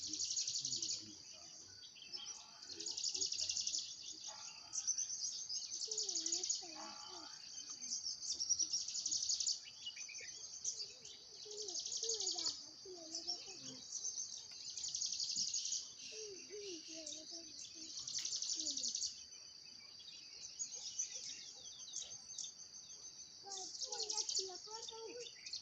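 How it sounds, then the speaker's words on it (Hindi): Birds chirp in a mountain setting in the morning, with repeated high, bright bursts of song at a steady pace, separated by short pauses, while a soft voice and quieter calls sit underneath. "हम पहाड़ियों की सुबह की शुरुआत एक शानदार पक्षियों की चहचहाहट से होती"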